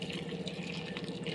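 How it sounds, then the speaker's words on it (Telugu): Hot water poured into a pot of ragi mixture for ragi sankati, a steady splashing pour of liquid running without a break, fairly close and alone. "కొంచెం వేడి వాటర్ వేసేసుకొని"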